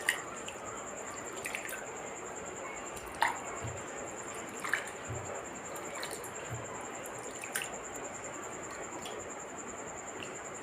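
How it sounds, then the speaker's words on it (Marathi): Sago pearls are rubbed and rinsed by hand in a bowl of water, giving soft, quiet wet squishes and scattered drips over a low background hiss. "तर इथे ह्या पद्धतीने आपण चोळून धुवून घेऊया।"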